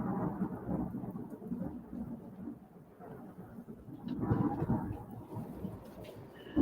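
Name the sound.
thunder from lightning during a storm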